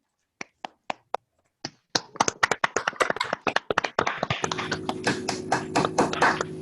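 An online conference audience with opened microphones claps for Dr. Petronio Álvarez Samaniego: a few isolated claps at first, then a quicker, uneven burst of clapping over a steady electronic hum.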